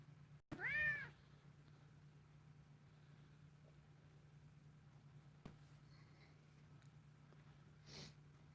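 A house cat lets out one short, clear meow close by at the start. Afterward only a quiet steady hum and a couple of faint ticks and rustles are left.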